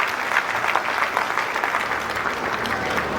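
Loud, dense applause from a school audience at an annual function, a steady wash of many hands clapping together, continuous and even throughout.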